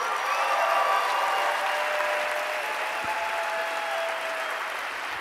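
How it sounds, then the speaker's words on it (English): Steady applause from an audience, dense and sustained clapping throughout, gradually easing slightly toward the end. "So one big round of applause for them."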